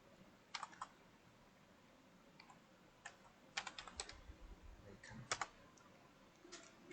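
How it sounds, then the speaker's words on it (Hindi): Keys clatter on a computer keyboard as a Python program is typed in short bursts of quick taps separated by pauses, faint and close with no talking. "कीबोर्ड प्रेस हो रहा था"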